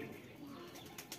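Pigeons at a home loft give soft low cooing over a brief moment, faint and close, with slight rustling.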